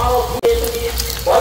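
Curry leaves, dried and green chillies and cashews sizzle in hot oil with onion, a steady close crackling fry that drops out briefly, then swells again near the end.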